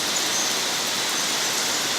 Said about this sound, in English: This is what I've been dealing with for the last few months. This rain.